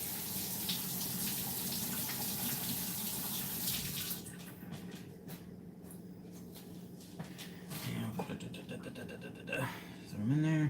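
Running tap water splashes steadily over food being rinsed under a kitchen faucet, loud and continuous for the first few seconds, then thinning into intermittent trickles and handling noises, with a voice speaking briefly near the end.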